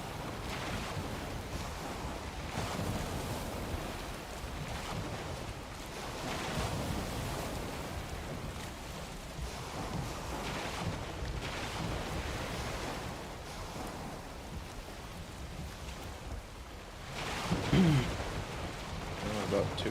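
In a video game, a boat is paddled into the wind across waves; surf wash and gusting wind roll on steadily beneath a talking voice.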